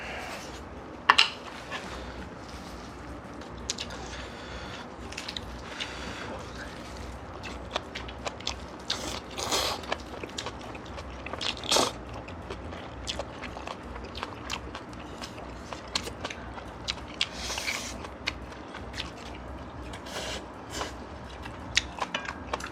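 Homemade Jjapaghetti noodles are eaten with sweet potato stem kimchi, napa cabbage kimchi and green onion kimchi, giving close, quiet chewing, slurps and crisp bites with occasional utensil clicks.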